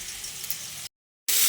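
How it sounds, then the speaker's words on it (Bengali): Pumpkin pieces fry with turmeric in a pan, giving a close, steady hissing sizzle that cuts out abruptly to silence for a moment, then returns louder. "কুমড়োটাকে লালচে করে ভেজে নেব।"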